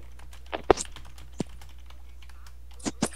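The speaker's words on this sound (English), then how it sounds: "Hold on, I'm typing in stole." Sparse keystrokes on a computer keyboard during a Roblox session, a handful of separate clicks spread unevenly across a few seconds, close and fairly quiet.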